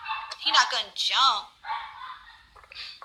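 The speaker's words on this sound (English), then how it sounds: "Sorry about my dog in the background." A dog barks and yips in the background, several sharp calls and whimpers in a burst, heard beneath a man's speech indoors.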